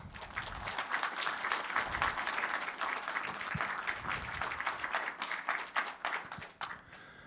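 A crowd at an inaugural association meeting applauds to approve its new president. The clapping is dense and sustained, heard from a moderate distance, and tapers off near the end.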